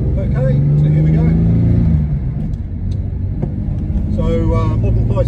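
A 1963 Jaguar Mark 2 with a CMC high-torque 4.2 engine conversion and five-speed gearbox drives along, its engine rumbling steadily and close throughout with a brief rise in revs, while a voice talks over it.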